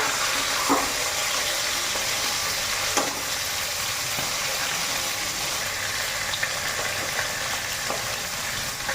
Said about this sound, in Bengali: তো মাছের মাথাগুলো এক পিঠ ভাজা হয়ে গেছে